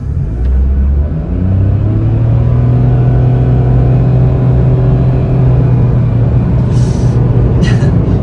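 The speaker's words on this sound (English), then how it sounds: "And off the line, the engine is loud." The 3-cylinder engine of a 2023 Mitsubishi Mirage Ralliart drones loudly and steadily as the car pulls off the line, heard close from inside the cabin with the air conditioning running and no speech.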